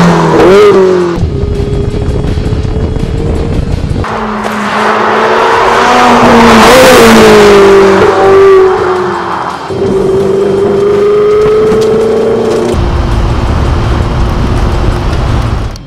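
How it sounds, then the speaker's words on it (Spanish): A Ferrari 488 Spider with its V8 engine pulls away loudly and close, the roof down. Its deep engine note rises and falls through the gears over a long, continuous drive. "El V8 de este Spider resuena que es una barbaridad"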